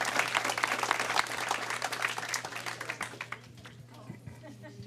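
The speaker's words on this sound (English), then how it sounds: "Let's give him a round of applause." Applause at a city council meeting: a dense burst of many hands clapping at moderate distance that thins out and fades over a few seconds, leaving scattered faint claps.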